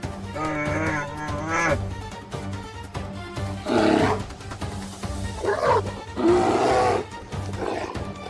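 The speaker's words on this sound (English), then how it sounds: "The bear roared, a deep, forest-shaking sound, then surged forward with the force of a living boulder." A bear's deep, drawn-out roar, repeated in several loud, rumbling bursts that rise and fall close by, with no other sounds alongside.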